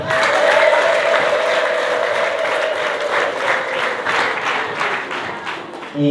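A congregation applauds during an evangelist's sermon: dense, sustained clapping from a large crowd, loud and close, with a faint voice running underneath.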